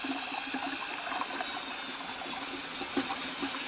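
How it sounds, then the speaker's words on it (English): A drill steadily stirs polymer concrete, blending its two components into a mix. The mixing is a continuous, even whirring and churning noise that holds at the same level throughout, with no voices. "I'm going to drill stir this for about another 20 seconds because I want to wet out the A and B together first"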